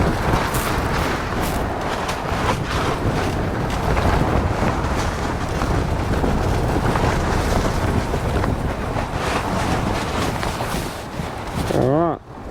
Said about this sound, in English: This wind is just absolutely crazy.